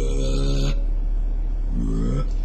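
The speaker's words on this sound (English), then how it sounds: "Oh, how I love to burp!" A cartoon character lets out two long, loud, voiced burps, separated by a short pause filled with a background hum.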